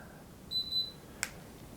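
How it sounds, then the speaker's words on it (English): A remote for an Artica LED fandelier ceiling light gives a short double electronic beep on reaching its brightness limit, clear and close in a quiet room, followed by a faint click. "That beep tells me that's as bright as it's going to go."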